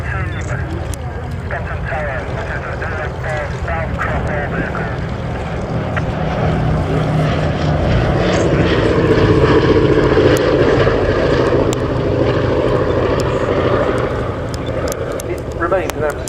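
A B-17 Flying Fortress four-engine propeller bomber performing an airshow display gives a loud, continuous droning roar that swells in the middle and holds steady throughout.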